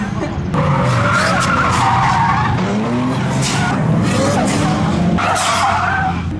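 A Nissan Skyline R32 drifts on a track, its tires skidding and squealing in long, loud, wavering screeches over a roaring engine that revs up and down throughout.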